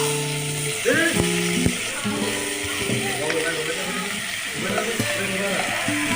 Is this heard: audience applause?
no